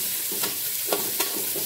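Potatoes frying in a pan and being stirred, a brief steady sizzle with a few soft scraping stirs and light knocks, moderately loud and close.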